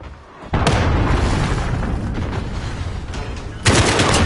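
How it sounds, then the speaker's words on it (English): An enemy cruise missile strike in a shooter game, a loud booming blast with a crackling explosive roar that runs on, then a second sharp impact near the end. "Enemy cruise missile."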